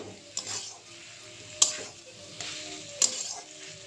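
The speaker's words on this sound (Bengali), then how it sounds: "এইভাবে কিছুক্ষণ ভালোভাবে নাড়াচাড়া করে তারপর আর একটু ভাজি ভাজি করে নামিয়ে নেব" A spatula stirs potato fry (aloo bhaji) in a frying pan, making a soft, continuous sizzle broken by two or three sharper metallic scrapes against the pan, moderately close, with no talking.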